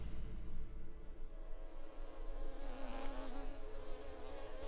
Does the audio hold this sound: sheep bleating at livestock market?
no